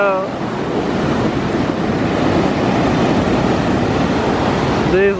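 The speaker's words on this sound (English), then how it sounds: "These waves are huge." Large ocean waves surge and break on the shore in east Bali, a loud continuous roar of surf with wind buffeting the microphone, and brief voices at the start and end.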